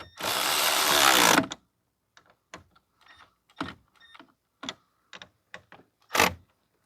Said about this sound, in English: So we are going to tighten up the terminals.